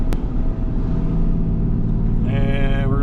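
A Ram 3500 dually diesel pickup towing a CAT 310 excavator down an 8% grade in second gear gives a steady, loud engine drone and road rumble throughout. A rising whine enters near the end.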